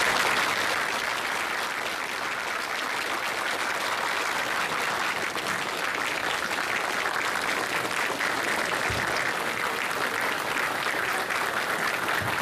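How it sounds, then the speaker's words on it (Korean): An audience applauds at the farewell from the Ministry of Justice building in Gwacheon, a dense, sustained wave of clapping that holds steady and close throughout, with no speech. "박수 한 번만 받으세요"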